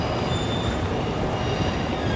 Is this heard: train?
yes